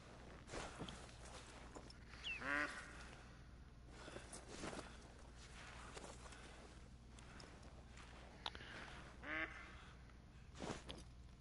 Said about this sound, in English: And we've got ducks out there too.